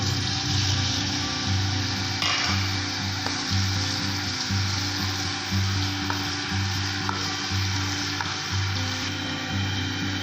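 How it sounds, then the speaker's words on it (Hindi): Steady, close sizzling of onions frying in hot ghee, with a low rhythmic hum underneath and occasional small clinks. "हल्का सुनहरा गोल्डन कलर आने तक इसको फ्राई करेंगे"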